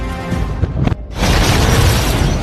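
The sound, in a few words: explosion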